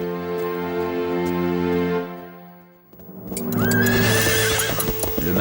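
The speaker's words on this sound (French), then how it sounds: "Saül se lança au triple galop avec son armée sur la route de Damas" Horses neigh loudly in long, ringing whinnies up close, followed by a burst of galloping hooves clattering under more high calls.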